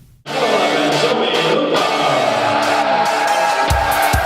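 A large crowd in a high school gym roars and cheers during a girls basketball playoff game at Fall Mountain High School against Newport, a loud sustained wash of voices that swells in and holds steady with scattered shouts.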